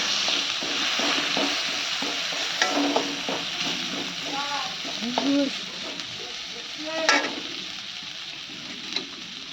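Fish fries in a pan with a dense, close sizzle that holds throughout, broken by a few louder pops and some faint kitchen clatter.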